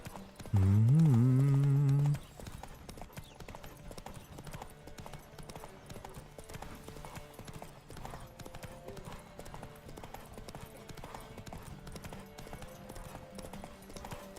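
Rhythmic clip-clop of galloping hooves during a horse race in the video game The Witcher 3: Wild Hunt, running steadily throughout, with a loud horse neigh near the start.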